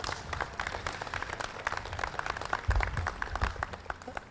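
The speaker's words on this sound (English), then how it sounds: "I'd like to give him a round of applause right here" A veterans remembrance audience in Manatee County applauds Navy veteran Richard Brooks, a steady, moderately loud patter of many hands clapping together, with a few heavier thumps midway and no voices over it.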